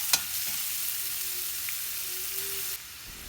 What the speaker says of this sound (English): Mix all these ingredients and fry until it turns light brown.